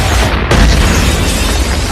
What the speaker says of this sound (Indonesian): para tentara itu pun meledakkan gedung